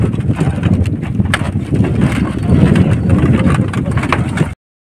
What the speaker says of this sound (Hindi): ये देखिए हमारी सड़ियल बाइक, इसी से वीडियो बना ली।